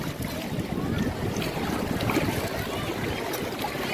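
A boat out on the sea at Malpe, with a steady, dense roar of engine, wind and water rushing past the hull, continuous and moderately loud with no talking.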